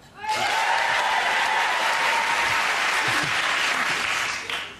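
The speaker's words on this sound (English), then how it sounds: "Were you waiting for applause?" Dense, steady applause from a large television studio audience at a music quiz show rises quickly and holds at full strength for several seconds before tapering slightly at the end.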